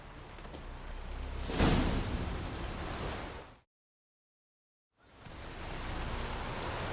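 Heavy rain pours in the video game The Witcher 3: Wild Hunt, a loud dense wash of noise that swells, cuts out briefly, then returns.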